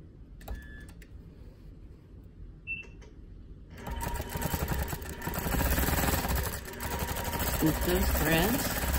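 A Gammill Elevate long-arm quilting machine pulls up the bobbin thread with a few short mechanical clicks and whirs, then breaks into a louder, steady run of dense stitching, with a voice talking over the start.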